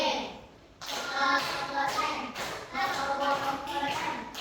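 A classroom of students performs a rhythmic 'tepuk' clap chant in an Islamic studies lesson, with bursts of clapping and tapping in time while young voices chant along, nearby and fairly loud.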